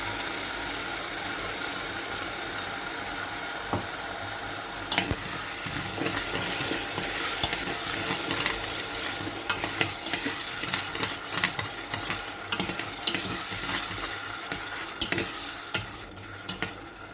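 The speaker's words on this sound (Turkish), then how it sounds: "Tereyağımla birlikte soğanlarımı da güzelce kavurdum. Şimdi artık domates sosumu" Tomato sauce hits butter-sautéed onions in a pan, giving a steady, close hiss of sizzling with intermittent scraping and stirring clicks throughout, no voices.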